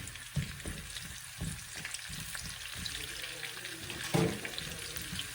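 Garlic, scallion and onion fry in a pan for Jamaican saltfish and okra, giving a steady close sizzle with a few soft knocks from stirring and no talking.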